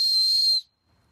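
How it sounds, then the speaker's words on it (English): A survival whistle built into the durable buckle of a paracord bracelet gives one loud, shrill, sustained blast that lasts about half a second, then cuts off sharply into near silence. "built into it is a survival whistle, which I'll give a little blow here"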